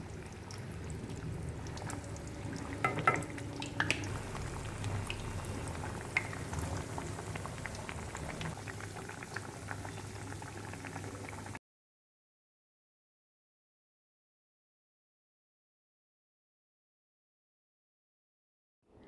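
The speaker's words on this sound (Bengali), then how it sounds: "এবার আস্তে আস্তে করে আমি পুলিগুলো চলো ভেজে নিই" Palm kheer puli frying in warm oil over low heat gives a steady close bubbling sizzle with faint crackles for about eleven seconds, then stops abruptly into silence.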